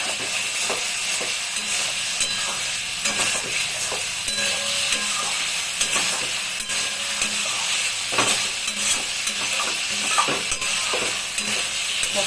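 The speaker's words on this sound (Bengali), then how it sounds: "এখন একটু নাড়াচাড়া করবো। গ্যাসের ফ্লেমটাকেও বাড়িয়ে দিলাম।" Boroli fish curry with potatoes and pointed gourd cooks on a raised gas flame, a continuous close sizzle and hiss broken by frequent scrapes and taps of stirring, with no voices.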